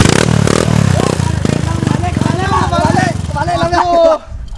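A motorcycle engine revs and sputters loudly amid a crowd of overlapping voices, then cuts out near the end.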